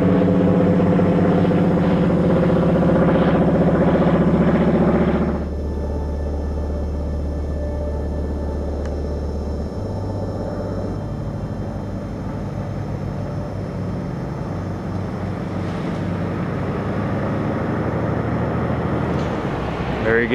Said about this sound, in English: The radial engine on the beaver's got a real distinct sound.